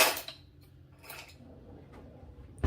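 Metal tablespoon and teaspoon picked up from a kitchen utensil drawer while making a salad dressing, a few short clinks and scrapes, one near the start, another around a second in, and a sharper knock at the end, fairly quiet and close.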